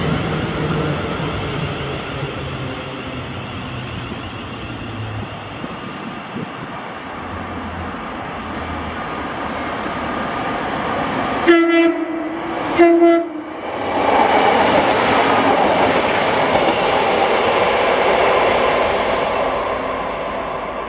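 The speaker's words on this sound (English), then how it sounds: "This is 226D, the 1332 Network Rail service to Falkland SS from Slateford Depot." A Network Rail track recording train passes through Paisley Gilmour Street station with a loud, continuous rumble of wheels on rails. Two short horn blasts sound midway, then a rushing, hissing swell as it goes by.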